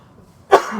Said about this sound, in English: wicked cough, so I apologize if you guys could all hear that throughout the whole pod